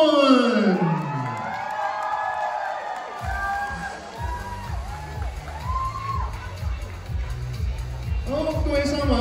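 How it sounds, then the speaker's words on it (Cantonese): Audience at an annual award ceremony applauding and cheering for winners on stage, a steady wash of clapping with whoops and shouts throughout, with a host speaking over it near the end. "各位三位，再一次俾掌聲 Carmen、Iris 同阿 Ming"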